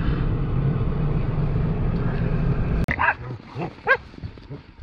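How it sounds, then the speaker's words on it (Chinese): Several dogs bark and yelp close by while being fed dumplings on a snowy day in northeast China, a few sharp barks following a steady engine-like rumble that cuts off abruptly. "看看这些狗都喜欢吃饺子"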